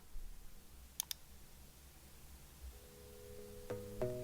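Two quick, faint computer mouse clicks close together, taken while saving a contact in Xero accounting software, in an otherwise quiet room with light background hum.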